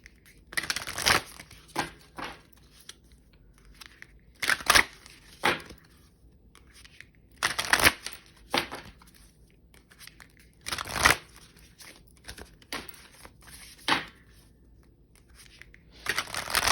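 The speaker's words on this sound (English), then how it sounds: "I'm feeling called to put these cards back in here" Tarot cards shuffled by hand in repeated bursts of papery riffling and slapping, separated by short quiet gaps, close and fairly soft with no talking.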